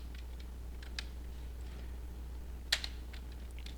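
A command is typed on a computer keyboard while multiboxing in Classic WoW, a few scattered key clicks followed by a sharper pair of presses, close and fairly quiet over a steady low hum.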